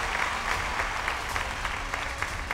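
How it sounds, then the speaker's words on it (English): Audience applause for a group of designers at a Miss Sri Lanka Earth pageant grand finale, a steady wash of clapping from a large crowd that continues evenly throughout. "Let's have a huge round of applause for them,"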